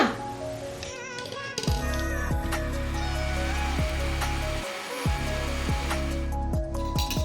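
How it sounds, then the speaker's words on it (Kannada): A mixer grinder runs on a Malenadu-style fish curry masala, grinding without added water. A loud, steady motor whine starts and stops in several pulses, with short gaps and clattering between bursts. "ಸೊ ಇವಾಗ ಇದನ್ನು ಗ್ರೈಂಡ್ ಮಾಡ್ಕೊಂಡು ಬರೋಣ."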